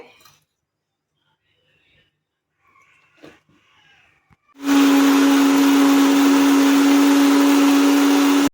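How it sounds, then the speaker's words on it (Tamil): Mixer grinder grinding mudakathan leaves with onion: after a few seconds of quiet handling noises, the motor starts abruptly into a loud, steady high whine that runs without letup until cutting off, close and alone. "இதையும் அரைச்சிக்கலாம் இப்போ அரைச்சிட்டு வந்து காமிக்கிறேன்"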